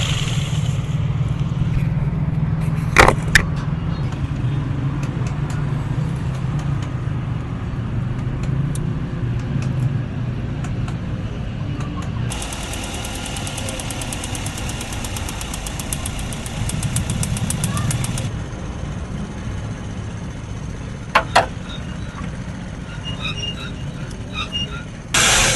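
A Toyota GLI 1.3 engine with a misfire runs close by, idling and being revved, its uneven, knocking drone steady throughout with a few sharp clicks and a brief spoken instruction.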